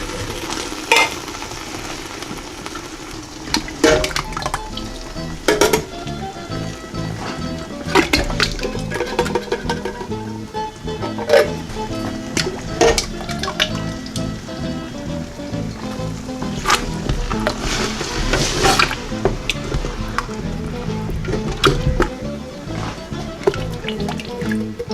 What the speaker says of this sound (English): now you want to add your tomato sauce